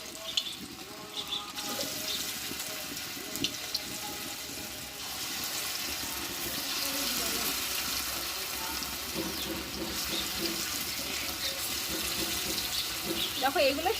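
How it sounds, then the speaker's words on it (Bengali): Banana flower fritters fry in hot mustard oil in a kadhai over a stove, giving a continuous bubbling hiss that runs unbroken for the whole stretch. "তেলটা গরম হয়ে গেছে আমি এইভাবে এবার আমি ফুলরিগুলো ভেজে নেবো"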